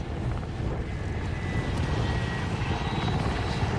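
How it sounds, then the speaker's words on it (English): An attack helicopter in the video game Call of Duty Warzone gives a loud, steady rotor roar with a rumbling, wind-like texture that carries on throughout. "there's the attack chopper"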